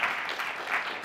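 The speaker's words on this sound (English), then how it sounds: "can we give that an appreciation, applause?" Brief, faint applause from an audience at a film distribution masterclass, a soft patter of clapping with no voices over it.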